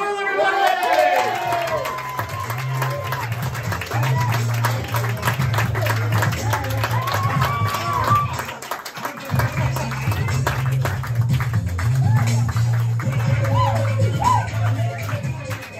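Comedy club audience clapping and cheering as a stand-up comedian is introduced, with whoops, shouts and scattered claps over a music bed, and voices calling out throughout.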